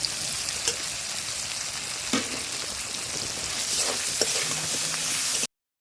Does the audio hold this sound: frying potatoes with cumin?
yes